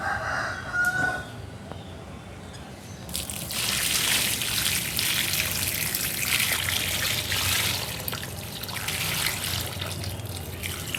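Fertilizer solution poured onto the soil of a young moondrop grape plant, a steady splashing trickle starting after a few seconds and running on, with a rooster crowing faintly at the start.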